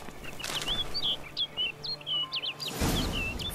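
In The Witcher 3 video game, a bird gives a series of quick high chirps and warbles over quiet ambience, close and clear, ending with a brief rush of wing flutter.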